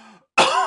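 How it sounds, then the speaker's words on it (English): A single sharp, loud cough bursts out after a brief faint sound and a short pause. "Still got that cough"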